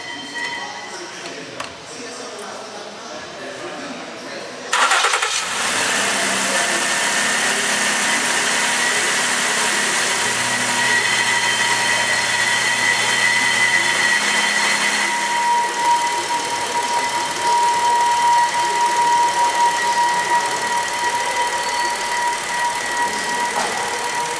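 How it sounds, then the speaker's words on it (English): A 2011 Ford Edge engine cranks and catches after a throttle body cleaning, then settles into a smooth, steady idle with a faint whine, close by, and someone speaks before it starts. "I'm going to go ahead and start her up."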